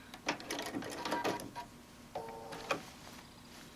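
A domestic sewing machine stitches the corner of a fat-quarter quilt in a short mechanical run of needle clatter, close and fairly quiet, following a few scattered handling knocks with no talk.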